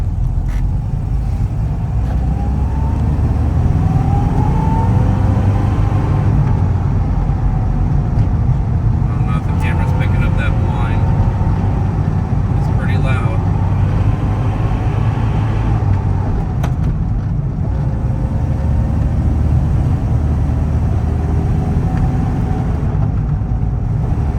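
A 1968 Volkswagen Karmann Ghia with an Autostick semi-automatic transmission accelerates with a steady, loud engine drone, then backs off. The engine tone rises and falls close by throughout, with someone talking over it.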